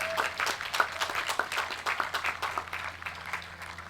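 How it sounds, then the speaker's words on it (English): A graduation audience applauds senior athletes at a South Salem High School ceremony, a steady patter of many hands clapping together at moderate distance with no talk over it. "Can we please give them a huge round of applause for their hard work in the past years?"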